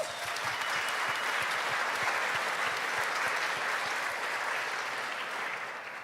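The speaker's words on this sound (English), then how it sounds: "So clap hands for that" Conference audience at the NG-DE Angular event in Berlin applauds in a steady, dense wash of clapping that holds evenly for the whole stretch before easing slightly at the end.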